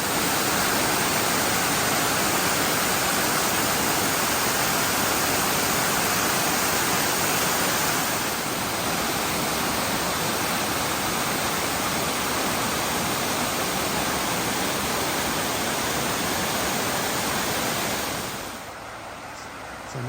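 A waterfall along a lakeside trail at Vogel State Park, a steady, dense roar of falling water that stays constant and fairly loud throughout, easing slightly near the end.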